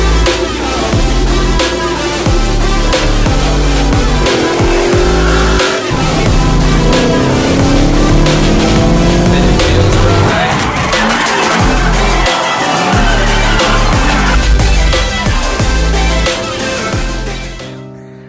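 A straight-piped Ford Mustang Shelby GT500 engine revs loudly and steadily, its rough exhaust note rising and falling close by with a few sharper blips near the end.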